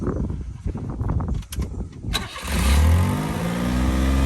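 A Mitsubishi mini truck engine cranks with rapid clatter, catches at once and settles into a loud, close idle that rises with a little revving.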